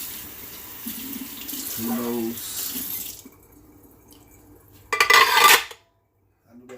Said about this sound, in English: I gotta knock out these dishes real quick